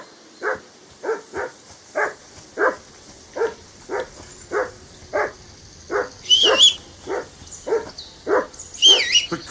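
A dog barks steadily in the video game Kingdom Come Deliverance 2, a regular series of loud, close barks at even intervals, with higher yelping cries breaking in near the middle and end; no talking.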